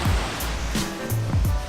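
Waves at a little rocky cove beach of white sand in Majorca, brief surging wash of surf with rushing, noisy swells close by.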